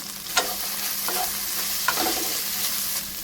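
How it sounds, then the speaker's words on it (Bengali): Ground coriander, cumin, dried chilli and turmeric pastes with garlic and ginger paste frying in a pan, a steady sizzle under a few soft stirring scrapes, close and continuous. "ধনে বাটা জিরে বাটা শুকনো লঙ্কা বাটা হলুদ গুঁড়ো ভালো করে নেড়ে দেবো"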